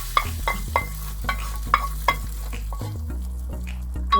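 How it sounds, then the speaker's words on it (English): Spiced tempering for lentil dal sizzling in a pan, a soft continuous fry broken by a series of sharp spoon taps and scrapes as it is stirred, close up and without talk. "I've added the other spices and giving it a little stir, and wait till it becomes a little golden brown"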